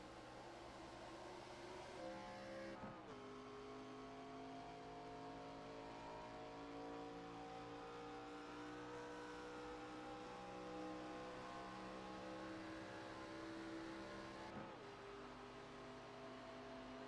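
Stock cars roar as a pack accelerates off a restart at Talladega Superspeedway in iRacing, layered engine drones rising steadily in pitch, loud and continuous with no talk over them.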